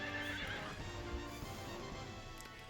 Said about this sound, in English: I definitely would not be having a good night with that neighing every time